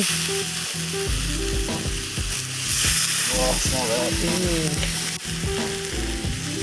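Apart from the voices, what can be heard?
food sizzling in pan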